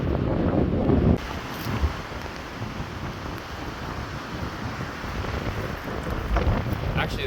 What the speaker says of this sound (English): it's a little too windy